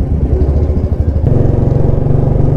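A motorcycle with a loud, illegal aftermarket exhaust throbs close by in deep, rapid pulses, then settles into a heavy, steady rumbling drone, with no talking over it.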